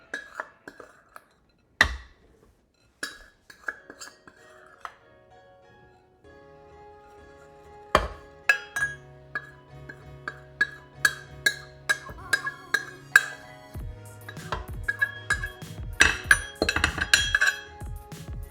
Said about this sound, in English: I'm just mixing until like just combined so it's not a mess